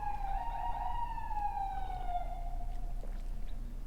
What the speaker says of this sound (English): Let me let the sirens pass because they're getting closer.